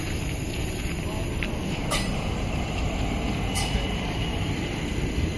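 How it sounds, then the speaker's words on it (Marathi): A crowded early-morning passenger train pulling out of the station in Maharashtra, a steady heavy rumble of rolling wagons with brief hissing bursts, close and loud throughout. "ट्रेन आता सुटले."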